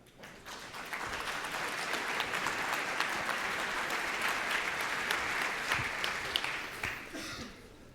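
A conference audience welcomes a speaker at a paleoart talk with a warm round of applause that swells quickly, holds dense and steady for several seconds, then tapers off near the end.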